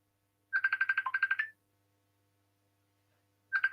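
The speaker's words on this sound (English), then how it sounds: "I'm on the pod and she's ringing me." A phone rings with an incoming call, giving a fast trilling burst of electronic tones for about a second, then a pause, then the next burst. It sounds clean and fairly quiet against near silence.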